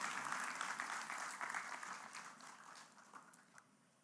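An office audience at a corporate presentation claps softly, a thin patter of applause that fades away over a few seconds.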